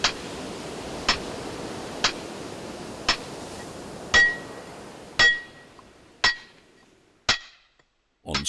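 A chisel striking rock while carving a stone memorial, heard as a steady series of sharp metallic clinks about once per second, each with a short ringing decay, with no other sound between strikes.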